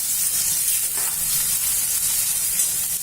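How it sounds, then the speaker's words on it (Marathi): Onions fry in hot oil until browned for kande pohe, a dense, steady sizzle with bright hissing, close and continuous with no voices over it. "कांदे चांगले ब्राऊन रंगाचे होईपर्यंत भाजायचे तेला"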